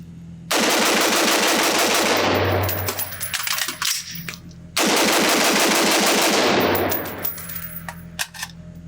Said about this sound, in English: Let me load up two magazines, shoot this thing as fast as I can, drop one mag, get a fresh one in there